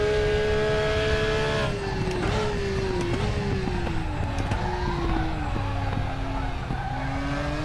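Racing car in GT Sport climbing a hill, its engine note sweeping steadily up and down through gear changes with brief tyre scrubs, loud and close throughout with no talk.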